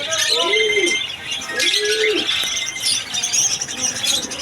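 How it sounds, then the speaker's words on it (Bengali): Pigeons cooing at a pigeon market in Khulna, held on the ground floor of a mosque at Kadamtala crossing. Several soft, rounded coos sound close by amid chirps and crowd noise, with people talking in the background. "এখানে আসলে বিভিন্ন ধরনের কবুতর পাওয়া যাবে।"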